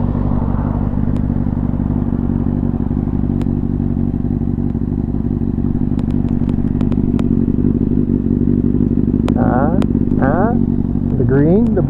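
A Kawasaki 636 motorcycle rumbles steadily close by outdoors, its low engine drone continuous and loud throughout, with a few clicks and brief chirpy noises near the end.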